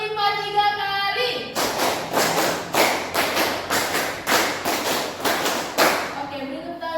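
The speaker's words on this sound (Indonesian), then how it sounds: "Tepuk 5 3 kali." Schoolchildren in a fifth-grade class clap a five-beat pattern three times over, a long run of evenly spaced, loud unison claps framed by the teacher's voice at either end.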